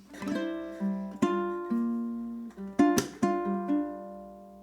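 A ukulele plays a measure of a song slowly, with about eight distinct plucked and strummed notes and chords ringing out one after another, close and clear.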